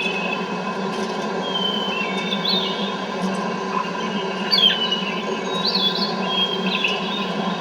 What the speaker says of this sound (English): We'll have birds as long as we want.